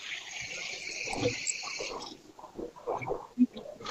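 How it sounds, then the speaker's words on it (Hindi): Water is swished and gurgled in the mouth while rinsing during wudu, close and soft, with a first longer run of trickling water followed by wet sloshing pulses and a brief spit-like burst near the end. "अब हम कुल्ली करेंगे।"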